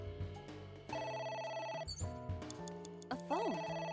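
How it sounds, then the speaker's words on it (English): A telephone rings inside the video game AI: The Somnium Files, a bright electronic ring pattern repeating across a few seconds over layered game music, loud and close with no talking. "A phone. Should I pick it up?"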